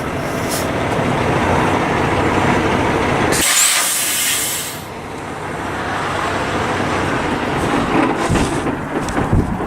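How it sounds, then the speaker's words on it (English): A truck drives forward off its tire chains with a loud, continuous rumble and hiss, a brief burst of air-like hiss midway, then steady engine and road noise. "now all you gotta do is drive forward and then drag them off"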